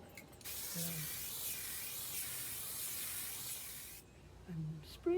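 A can of spray mount glue hisses in one long, steady burst outdoors, with faint clicking before and after it.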